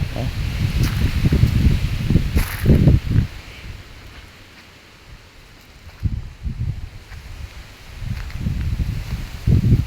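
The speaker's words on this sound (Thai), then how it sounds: "โอ้ลมแรง" Strong wind sweeps through outdoor foliage, giving loud, roaring gusts of rustling leaves that surge, fade into a quieter lull midway, then build again, close to the microphone.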